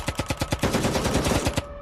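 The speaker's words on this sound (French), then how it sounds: "Tout à coup, on a entendu des coups de feu." A loud, rapid burst of automatic gunfire, a dozen or so shots in quick rhythm lasting under two seconds, then abrupt silence.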